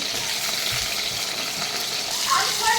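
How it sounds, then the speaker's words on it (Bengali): Potatoes frying in a pan give a steady, fairly loud sizzle with a dense hiss that holds through the whole stretch, with a few brighter spits near the end and no voices. "এখন আমি আলুটাকে ভেজে নেব সুন্দর করে"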